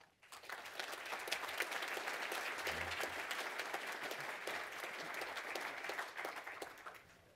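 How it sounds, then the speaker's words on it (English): A business audience at a Sacramento economic review event gives sustained applause, a dense even clatter of many hands that swells quickly, holds for several seconds and tapers off at the end. "Please welcome Jason Bell"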